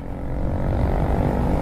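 A loud, steady engine roar from a Honda XRM motorcycle speeding away fills the whole stretch, close and continuous, with a rough low rumble and no talking.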